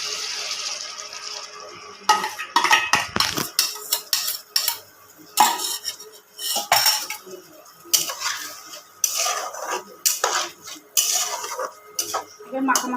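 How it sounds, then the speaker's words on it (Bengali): Spoon whisking sour yogurt in a bowl while making doi posto paneer, irregular clinking and scraping strokes against the bowl in quick bursts after a quieter start, no voices. "টক দইটাকে পুরো ফাটিয়ে নেব।"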